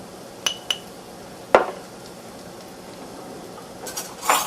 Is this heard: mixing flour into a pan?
yes